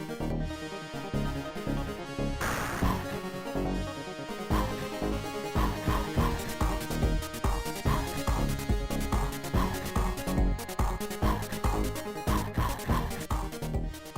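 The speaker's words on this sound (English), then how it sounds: "So I'm going to play the credits theme to Sonic the Hedgehog 3." Sonic the Hedgehog 3's video game credits theme plays as a busy, upbeat synth tune with a steady pulsing beat and layered melody, loud and continuous with no talking.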